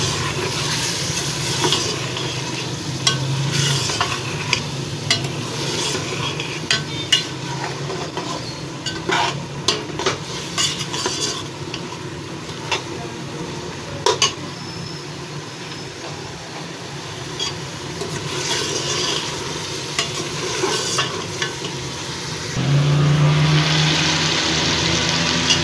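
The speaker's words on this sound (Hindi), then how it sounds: "वो डाल देती हूँ, वो भून लेते हैं पालक भी।" Spinach stir-fried with turnip and meat in a pot, steady sizzling with repeated scraping and clattering strokes of a spoon, close and fairly loud, growing denser near the end.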